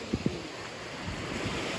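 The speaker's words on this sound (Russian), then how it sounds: "Смотрите, какая волна." Sea waves washing onto Aquamarine beach at Vityazevo in late May, a steady broadband surf wash with wind noise on the microphone and two brief splashes near the start, no talk.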